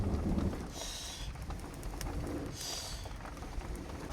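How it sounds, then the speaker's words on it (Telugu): Heavy rain pours outside a hut in a forest, a dense steady hiss with low rumbling wash, plus two brief brighter bursts and faint bird-like calls in the background. "చూడండి బయట ఏ విధంగా వర్షం పడుతుందో"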